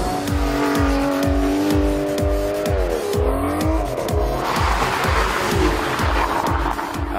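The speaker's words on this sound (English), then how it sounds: "The Vantage S, once you put it into sport mode, it really takes off." An Aston Martin Vantage S in sport mode, driven in a racing video game, accelerates hard with a rising engine note and rapid gearshift pulses, then tires squeal as it corners.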